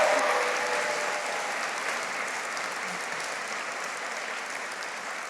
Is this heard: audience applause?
yes